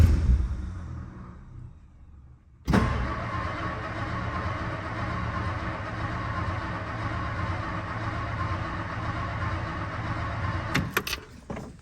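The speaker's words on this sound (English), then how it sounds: "Fuel pump is on." Electric fuel pump on a 1959 Lincoln switching on abruptly and running with a steady, close, droning hum over a mechanical buzz, continuing evenly for about eight seconds before a few clicks near the end.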